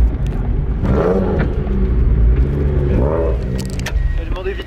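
Distant race cars roar around a Japanese circuit, with repeated rising and falling engine sweeps as they pass, all under a constant loud rumble and background noise.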